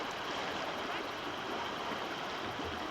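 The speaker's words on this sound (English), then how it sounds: "we're gonna rock it and it'll roll the water out" Water rushes out of a kayak being rocked on the Verde River in Arizona, a continuous close gurgling wash that stays steady and fairly loud throughout with no speech.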